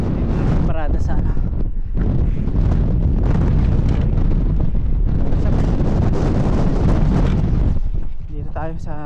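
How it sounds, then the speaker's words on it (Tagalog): Strong wind buffets the microphone on a grassy hilltop in New Zealand, a loud continuous roar with gusts that stays steady for most of the span, easing slightly at the end while someone speaks briefly. "Lakas ng hangin dito sa tuktok."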